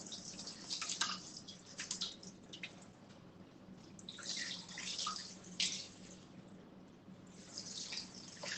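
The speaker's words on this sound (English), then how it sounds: "Wash my hands here." Hands being washed under a running kitchen tap during home baking, with a steady stream of water splashing and dripping into the sink at close range and no talk.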